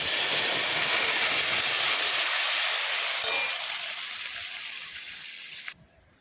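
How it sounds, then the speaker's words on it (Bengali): Ground spice paste hits hot oil tempered with nigella seeds, dried chillies, bay leaves and garam masala while cooking rui fish, giving a loud, steady hiss of sizzling that eases off toward the end and cuts out abruptly. "এবার গ্রাইন্ড করার মশলাটা ঢেলে দেব।"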